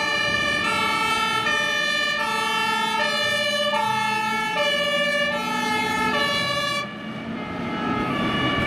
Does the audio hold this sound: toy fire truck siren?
yes